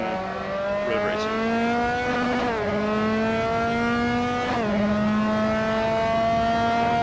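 Dallara F3 race car in the sim racing game Assetto Corsa, with a steady high-pitched engine whine held at speed, two quick downshift blips, then the engine climbing again. The sound is continuous and close.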